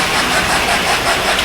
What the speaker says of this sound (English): you hear the locomotive slow down, speedometer drops down